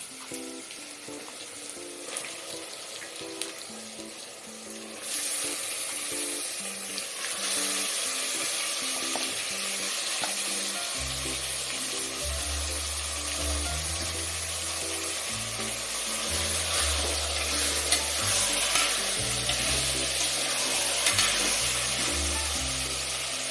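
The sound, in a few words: washed mutton frying in pan with ginger garlic paste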